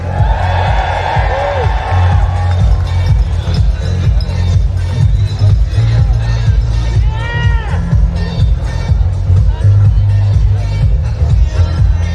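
Crowd at the start line of the Newport Marathon and Half Marathon gives a sustained cheer with whoops and shouts over a steady low rumble of noise, loud and continuous, with an amplified voice cutting through.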